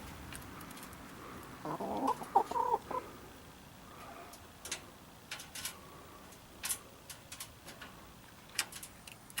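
A chicken clucks in a short burst of soft calls, followed by scattered light taps and scratches in a quiet setting.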